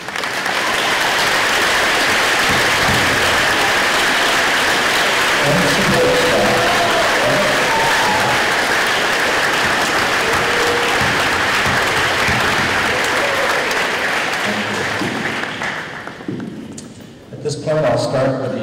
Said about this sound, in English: so we can give you guys a round of applause